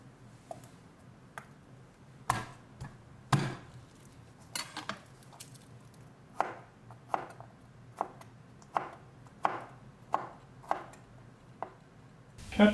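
A knife chops a garlic clove into small pieces on a board, a dozen or so crisp, separate taps at an uneven, unhurried rhythm, close and alone with no talk.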